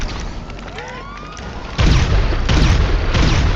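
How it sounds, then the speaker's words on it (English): Railgun shots in GTA striking a heavily armoured ground vehicle come as loud booming impacts, a sudden heavy blast followed by repeated rumbling hits, after a quieter stretch with faint whistling tones. "it's still taking these railgun shots like it's nothing"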